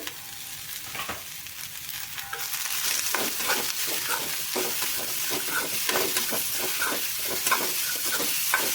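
Carrot and cabbage with onion sizzle steadily in a hot pan, the frying hiss rising and filling out partway through, broken by repeated scraping stirs of a spatula; no voices.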